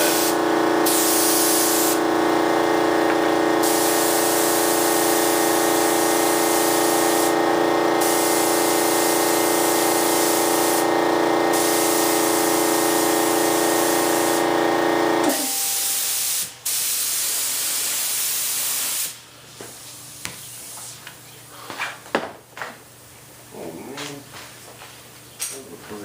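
Airbrush or spray can laying a light mist coat of primer onto a scale model: a steady, close, even hiss for about fifteen seconds, then it cuts off and leaves quiet handling clatter and small knocks.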